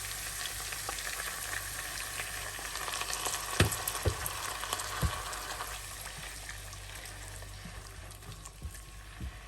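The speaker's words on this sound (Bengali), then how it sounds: "এখন আমি দিয়ে দিব লিটল বিট ওয়াটার।" Browned fried onions in a pan sizzle steadily after a little water is added, a continuous frying hiss with a few sharp pops and stirring clicks throughout, close and fairly loud, with no talking.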